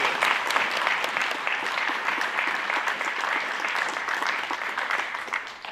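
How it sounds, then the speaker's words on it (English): A ceremony audience applauds healthcare facility staff at a change of command event, sustained clapping from many people, full and even, tapering slightly near the end. "please give them a round of applause"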